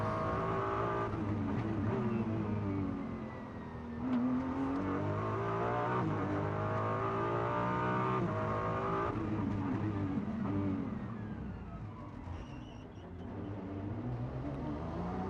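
A Ferrari GT race car in FIA GT World Cup qualifying at the Macau Grand Prix street circuit roars continuously, with the engine note rising and falling through gear changes. It sounds loud and close throughout.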